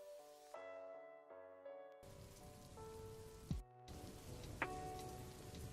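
Steady rain falls outside as a dense, even hiss that begins partway through, after a quiet stretch of sustained tonal notes. It continues without a break to the end, with a couple of brief knocks.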